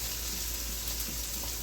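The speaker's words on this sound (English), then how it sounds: "we let the mushrooms saute for about 2 to 3 minutes on medium high heat" Mushrooms sautéing in a pan over medium-high heat give off a steady, soft sizzling hiss that holds even and unbroken, with no one talking.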